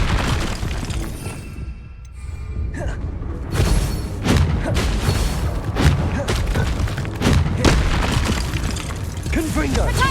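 Explosions from the Bombarda spell in Hogwarts Legacy boom and crack in rapid succession over dense combat noise, several sharp blasts spaced about a second apart, with a voice calling out between them.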